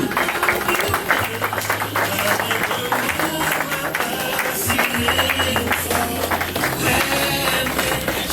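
Steady clapping from guests at a couple's wedding ceremony, a dense, continuous patter lasting several seconds over a low steady hum, with voices mixed in.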